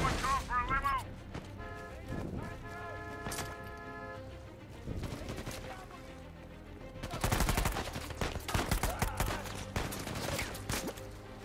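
Gunfire in the video game Uncharted 4: A Thief's End, with scattered shots early, then a loud run of rapid firing and explosive bursts from about seven seconds, mixed with game sounds and tonal effects.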